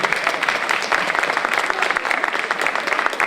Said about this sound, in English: A big round of applause to our Boston Children's Chorus directors